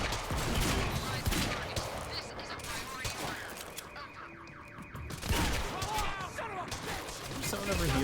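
Rapid bursts of gunfire from the video game Quantum Break, a dense stream of shots with mechanical clatter filling the whole stretch, loud and close, with a short lull in the middle.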